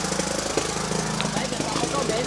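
A generator runs loudly at a house-warming gathering at a new home, a constant throbbing engine drone with a rapid knocking pulse, close by and filling the background while voices talk over it.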